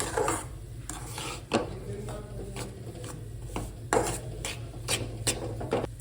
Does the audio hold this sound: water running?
no